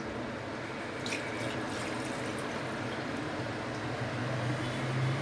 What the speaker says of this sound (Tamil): இந்த கிரைண்டரில் தண்ணி ஊற்றி அதையும் கழுவி இதில் ஊற்றிடுறேன்.